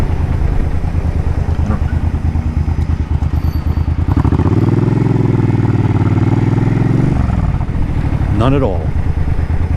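Suzuki Boulevard C50T cruiser motorcycle riding, its engine droning steadily and loudly close by, with the pitch swelling as it revs up midway and then easing back down near the end.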